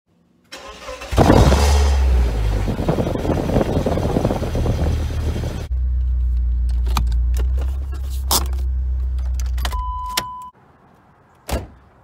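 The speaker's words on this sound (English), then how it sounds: "This is a cold startup on a 1998 BMW Z3." A 1998 BMW Z3 is cold started: the starter cranks, then the engine catches with a loud flare and settles into a steady idle, with a few sharp clicks before it cuts off.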